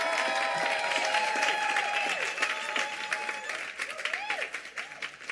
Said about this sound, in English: Can we just hear another round of applause for Ian Somerhalder?